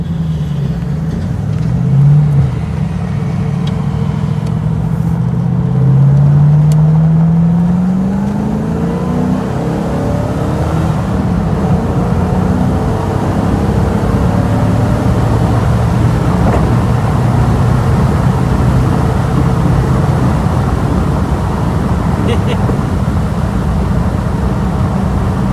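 V8 car engine accelerating on a 60-limit dual carriageway, a loud, steady low rumble with rising pitch sweeps as it pulls through the gears, then settling into an even drone amid road and wind noise.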